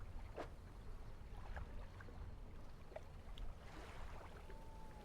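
A damaged boat engine in the Dredge video game chugs along faintly at low power, under lapping water and soft ambient noise, with no voices.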